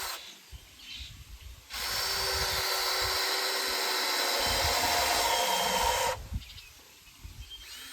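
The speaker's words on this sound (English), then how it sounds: "just screw these two together here using a couple screws" A power drill drives screws into pallet wood for a garden compost bin, a loud, steady whir lasting several seconds up close, framed by quieter outdoor background noise before and after.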